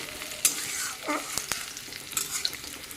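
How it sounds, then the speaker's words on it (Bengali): Onions frying in oil for fish curry, a close, soft sizzle broken by a few sharp crackles and stirring scrapes, heard alone without speech. "এখন দিয়ে দিলাম পেঁয়াজ পেঁয়াজটা একটু লাল করে বেজে নিই"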